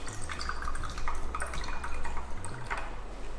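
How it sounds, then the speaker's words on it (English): Electrolysis solution pours into a laboratory beaker up to the 50 cubic centimetre mark, a continuous trickling and splashing of liquid heard close up and steady throughout. "We're going to pour our solution up to the 50 centimeter cube mark."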